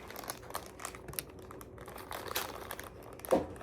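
A crinkly package of edible paper Easter basket grass being opened, with quiet, irregular crackling and rustling bursts and one sharper crinkle near the end.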